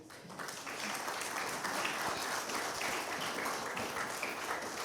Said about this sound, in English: Please stand and they clap for you